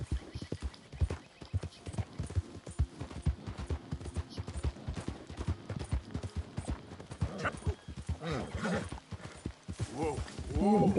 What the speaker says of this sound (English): Let's have the horse run for us.